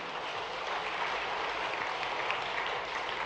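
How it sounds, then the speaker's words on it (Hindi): Applause from a village gathering at a government speech, a dense, even wash of clapping heard at a moderate distance with no talking over it. "थोड़ी ताली वाली बजा के आनंद भी ले सकते हैं।"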